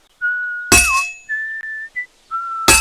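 A tuneful whistled melody in Kingdom Come Deliverance 2, sustained notes rising and falling, punctuated by two loud, bright metallic hammer strikes on a sword at the forge, ringing clangs at the start and end.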